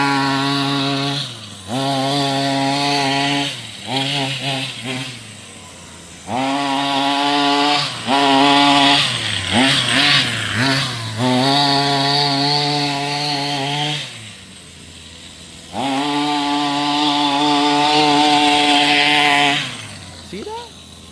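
A Rovan 45cc small two-stroke engine running in a rough, uneven way, droning in long stretches broken by short dips and surges. It is close and loud, with the tone changing as the revs rise and fall, and no voices.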